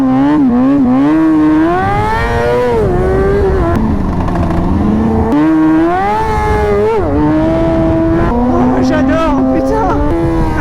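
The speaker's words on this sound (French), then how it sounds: "J'adore, putain, avec le bruit de cette moto." A motorcycle runs hard on a race circuit, its engine loud and close, with the pitch rising and dropping repeatedly through revs and gear changes for about ten seconds.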